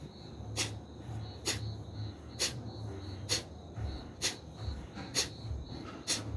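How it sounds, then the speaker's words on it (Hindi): Forceful yoga pranayama exhalations through the nose, about seven sharp, breathy puffs at a steady rhythm of roughly one per second, close and alone. "जो अंदर श्वास है उसे झटके से बाहर छोड़ना है"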